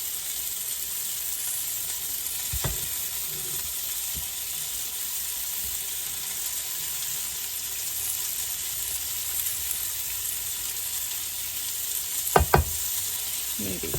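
Meat browns in a pan for a crockpot dinner, giving a steady, even sizzle throughout with a couple of brief clinks of stirring near the start and near the end; no talking.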